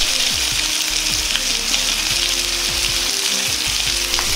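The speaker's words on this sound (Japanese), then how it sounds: "こうして30秒ぐらい放置して蒸し焼きします。" Pork and bean sprouts steam-fry in a pan with a steady, close sizzle and crackle, broken by a few small scrapes and pops, with no talking.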